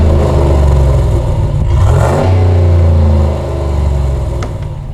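A Ram 1500 4x4 pickup with dual exhaust idles, then revs once sharply and settles back, loud and close with a low rumbling tone.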